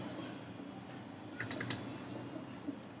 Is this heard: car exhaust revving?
no